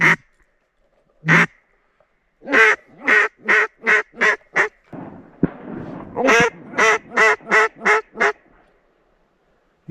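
Mallard ducks in a duck blind setting, loud close quacks in quick rhythmic bursts, an early pair, then a run of about six, then another run of about six after a brief rustle.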